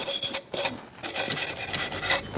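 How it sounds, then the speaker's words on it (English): Brake shoe contact surfaces on the rear parking brake of a 2002-2006 Honda CR-V are cleaned with quick, rhythmic rasping strokes, repeated close-up scrubbing and scraping with short pauses between passes. "let's clean up our surfaces where the shoes need to move"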